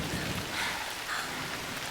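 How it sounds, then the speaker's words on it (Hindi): Rain falls in a dense, continuous hiss of drops with slight swells, and no voices are heard. "इस मजेदार बारिश का आनंद लो।"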